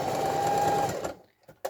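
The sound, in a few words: sewing machine stitching fabric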